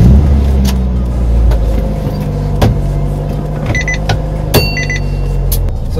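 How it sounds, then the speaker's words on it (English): A custom-built car with LED lighting is driven, heard from inside as a steady low engine drone with occasional clunks and a few short electronic beeps. "Now I do one of my favorite things, drive it."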